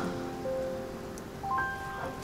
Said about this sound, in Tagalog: Ay, ang lakas na naman ng ulan!